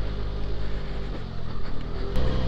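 A scooter engine drones continuously while riding, a close, loud low rumble with steady road and wind noise and no talking.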